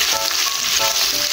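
Chicken longganisa sausages fry in a pan with a dense, steady bright sizzle and crackle, close and continuous, without any voices.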